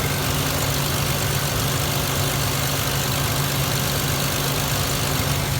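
A 2005 Ford Explorer Sport Trac with a stock 4-liter engine idles close by, a smooth, steady low hum with a faint constant vibration throughout and no voices.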